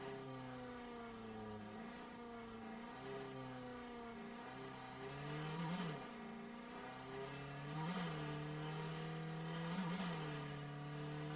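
Engine of a car driven in the game Drive Beyond Horizons hums steadily, rising and falling in pitch with repeated revs as the vehicle accelerates and eases off, with no talk over it.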